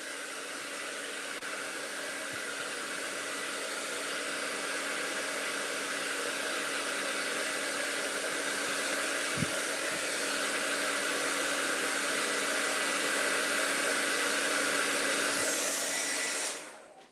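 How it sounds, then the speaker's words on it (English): A hair dryer blasts steadily to dry paint on a potato print, a loud, continuous airy roar lasting the whole stretch before cutting off at the end. "just going to get the hairdryer out. Quickly give this a blast."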